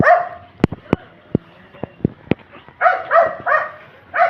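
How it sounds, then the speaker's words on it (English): Puppies in a neighborhood on St. Vincent after a cyclone give several sharp, close yips and barks, followed by a run of higher whining cries toward the end. "Oh, look at the puppies."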